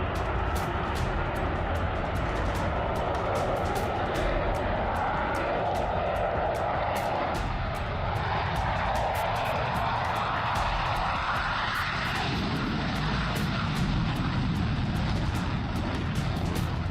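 Steady, loud roar of military cargo and fighter aircraft engines, a broad continuous rumble lasting throughout with a shift in tone partway through, heard alone without talk.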